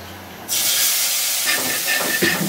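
Cumin and coriander paste hits hot mustard oil in a pan. A loud hiss bursts in after a quiet start and holds as a steady sizzle, with a few clinks and stirring scrapes near the end.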